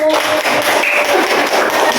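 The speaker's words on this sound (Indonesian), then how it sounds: "Tepuk tangan untuk kelompok 1" A class of students applauds a group presenting recycled plastic craft projects, a brief burst of dense, even clapping filling the room from start to end.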